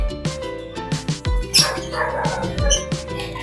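Several dogs bark and yip in short, sharp bursts near a home kitchen where chicken sinigang is being cooked, moderately loud over steady background tones.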